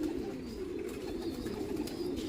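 Pigeons coo softly and continuously, low throaty calls layered over one another, fairly close with faint background noise.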